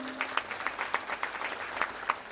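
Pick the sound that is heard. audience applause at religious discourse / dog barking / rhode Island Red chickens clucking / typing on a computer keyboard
audience applause at religious discourse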